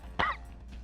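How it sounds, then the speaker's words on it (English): One short, sharp cough close to the microphone, alone against a faint background hum. "I had to cough something up."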